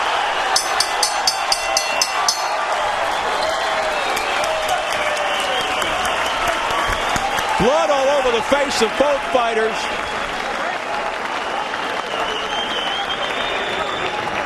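An arena crowd at the Juan Manuel Marquez vs Rocky Juarez boxing bout applauds both fighters after the final bell, sustained loud clapping and crowd roar running under a commentator's voice.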